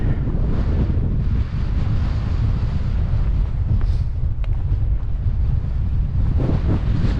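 Cold wind gusts across an open Cheviot hillside, buffeting the microphone with a loud, continuous low roar that swells and eases but never stops.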